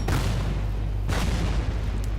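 Heavy artillery and mortar bombardment in the WW2 strategy game Order of Battle, with two deep booming impacts about a second apart over a low rumbling bed, loud and close.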